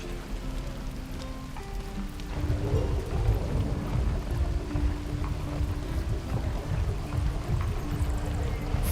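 Deep, steady rumble of an infernal engine in Baldur's Gate 3, suspected of a burnt-out piston ring or an oil leak, heavy and continuous, growing slightly louder after the opening seconds with a faint tonal hum.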